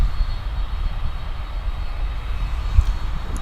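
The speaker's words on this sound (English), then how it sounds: "we watch American Airlines Flight 116 coming in from Kahului. That's a Dreamliner." An American Airlines Boeing 787 Dreamliner arriving from Kahului lands at DFW, producing a loud, steady low-pitched engine rumble and roar that holds constant throughout, with no voices.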